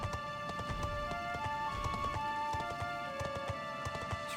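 Hooves clip-clop at a quick galloping rhythm from a horse in the video game Dragon Quest XI, fairly quiet and steady, with tonal game music or ambience running alongside.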